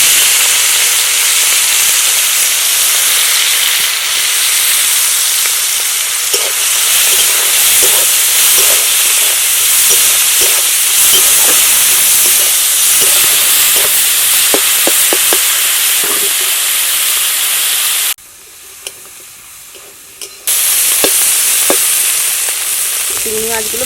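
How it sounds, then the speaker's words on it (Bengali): Prawns frying in a little hot oil in a wok for a traditional village Malabar spinach dish, a loud steady sizzle with stirring clatter throughout, briefly dropping out near the end before resuming. "এবার চিংড়ি মাছগুলো দিয়ে দিই"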